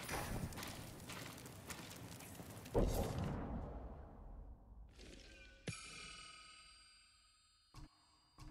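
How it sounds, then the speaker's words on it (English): Hanging chimes in the samurai video game Ghost of Tsushima, a bright metallic clang followed by sustained shimmering rings that fade out, with a later faint ding, after footsteps and ambient rustle, with no talking. "These chimes can be a distraction or a lure."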